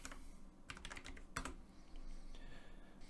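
Close, quiet clicks from a computer keyboard come in quick, uneven bursts while someone types a web address into a browser.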